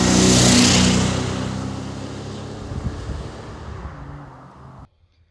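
A 1988 Jaguar XJS Hess & Eisenhardt cabriolet with a 5.3-liter V12 roars loudly, then the rushing engine note gradually fades and cuts off abruptly near the end.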